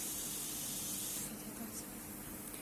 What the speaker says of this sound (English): Next one is the spray gun.